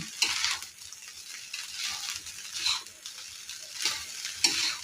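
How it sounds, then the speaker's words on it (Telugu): Egg fried rice with chilli powder and turmeric being stirred and mixed in a pan: uneven, rhythmic scraping and shuffling strokes over a soft sizzle, fairly quiet and close, with no talking. "ఇవన్నీ కలిసేలాగా బాగా కలుపుకోవాలి"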